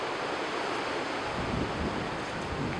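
Strong wind blowing across an allotment garden in October, a steady, dense roar of gusting air buffeting the microphone, continuous and fairly loud with no voices.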